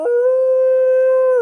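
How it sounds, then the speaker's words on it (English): A dog howls like a wolf in one long, loud, steady tone that holds for more than a second and stands alone. "sounds like a wolf, not a cow."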